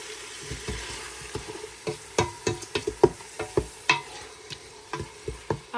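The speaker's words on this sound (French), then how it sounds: "et je mélange bien le tout." Meat, chickpeas and spices frying in a pot are stirred with a spoon, giving a steady sizzle under a run of sharp scraping clacks against the pot, close and fairly loud.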